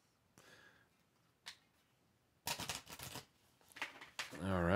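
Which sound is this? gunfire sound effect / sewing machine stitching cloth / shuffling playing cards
shuffling playing cards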